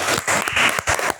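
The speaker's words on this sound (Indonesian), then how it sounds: "kita kasih tepuk tangan dulu untuk kelompok 2" Students in a classroom give a short burst of applause for group 2, a few uneven clusters of close hand claps that come and go.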